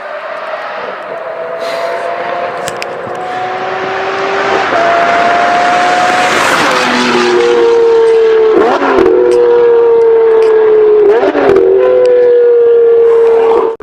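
Lamborghini Murciélago LP640-4 with a 6.5-liter V12, loud and close, revving and climbing through gears with rising whining tones, brief shift breaks, then sustained high-rpm roar near the end.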